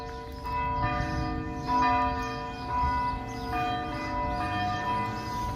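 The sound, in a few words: church bells ringing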